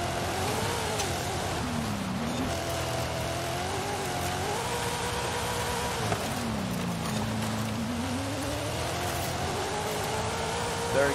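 Racing game car engine pulling hard in third gear, a steady loud drone whose pitch climbs, dips and climbs again across the run, with no talk over it.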